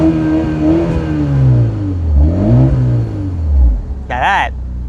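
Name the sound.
BMW 330i engine revving in sport mode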